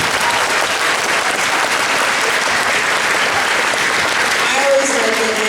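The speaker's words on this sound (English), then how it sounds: "special round of applause to our teachers that joined us for that too." Sustained audience applause for teachers at a school band concert, a thick wash of clapping hands that continues evenly, with faint voices briefly audible near the end.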